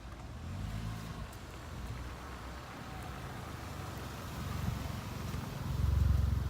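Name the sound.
car approaching and revving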